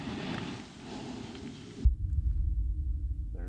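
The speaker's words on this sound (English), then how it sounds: "There's That's the thunder. Thunder." Thunder rumbling outside an old Odd Fellows building, a deep, sustained low rumble that swells in after a steady hiss and carries on loudly to the end, with no talking.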